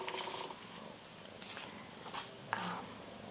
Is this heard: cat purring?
yes